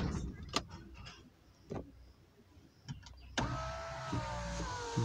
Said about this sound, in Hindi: शीशा भी चढ़ा देते हैं।